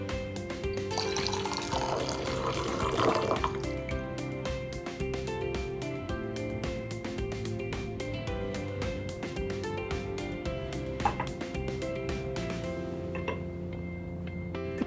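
Water is poured over pu'er tea leaves in a cup for the first rinsing steep, giving a steady close trickling and splashing stream that runs almost the whole time over a faint hum.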